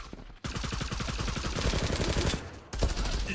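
Automatic gunfire from the online shooter game Zula rattles in rapid, dense bursts, loud and close, with a short break before a final burst.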